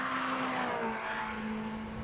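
A Lotus Elise, a low-power, mid-engine, rear-wheel-drive sports car, holds a high steady engine note out on a track as it is taken toward redline, a continuous sustained whine with a slight pitch drift, heard alone.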